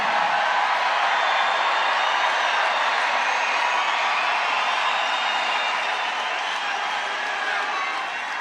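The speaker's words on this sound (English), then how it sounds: "What a nice crowd this is." A large crowd at an outdoor political rally, a steady, dense roar of cheering and shouting that holds at an even level throughout with no pauses.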